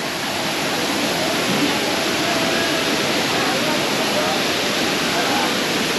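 Courtallam's Five Falls waterfall in Tenkasi roars as a steady, loud, unbroken wash of falling water that fills the whole stretch without pause.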